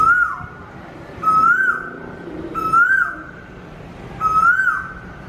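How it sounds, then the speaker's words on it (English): Cuckoo singing near a banyan tree by a lake, four clear repeated whistled calls spaced evenly over a soft background. "everyone was surprised to hear very sweet, melodious voice of cuckoo"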